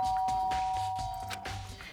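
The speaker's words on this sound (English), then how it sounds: "I pressed the doorbell." Doorbell from the video game Danganronpa, a short electronic chime ringing once alone, with its tones ringing clearly for under two seconds.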